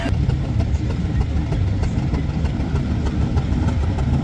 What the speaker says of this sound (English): The other of the way is the steam tractor